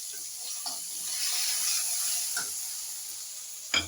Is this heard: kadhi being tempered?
yes